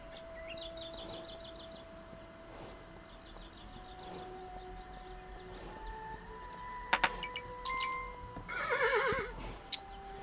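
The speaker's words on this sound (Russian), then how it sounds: "Потому что эта лошадь уже бесит просто" A horse in Kingdom Two Crowns gives a couple of whinnies near the end, loud and close, following quieter game sounds and soft music tones earlier on.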